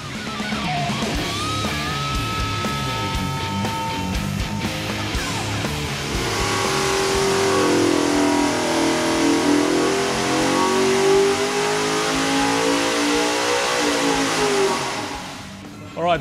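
A Ford Windsor V8 with CNC alloy cylinder heads revs hard on a dyno, running on Shell Optimax fuel. The engine climbs steadily to a loud, sustained high-rpm roar and holds it before a sudden drop at the end.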